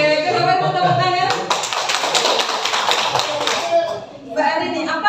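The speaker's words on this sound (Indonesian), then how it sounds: "Oke, kenapa mau tepuk tangan?" A group of people claps hands in a burst of applause lasting a few seconds, with speaking voices just before and after.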